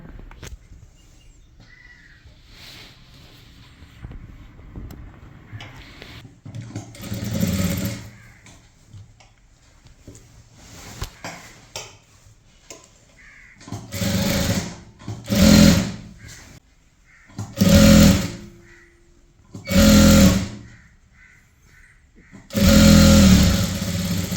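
A sewing machine stitches a maxi dress skirt piece in several separate loud bursts of running motor, each a few seconds long, with quieter pauses and handling noise between them.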